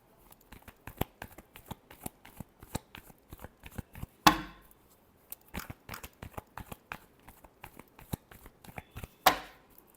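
Tarot cards shuffled close up in crisp, rapid riffling bursts, with two sharper, louder snaps standing out among the quieter flicks.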